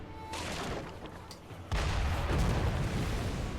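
Cannon fire in Sekiro: Shadows Die Twice, a heavy booming blast that erupts midway into a loud, sustained rumbling roar after a quieter stretch of game noise.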